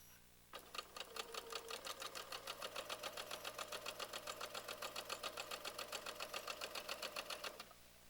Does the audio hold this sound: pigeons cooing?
no